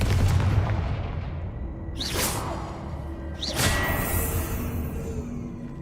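Two sharp whooshing blasts from the Confringo fire spell in the Hogwarts Legacy video game, spaced about a second and a half apart and heard over a steady rumbling game backdrop.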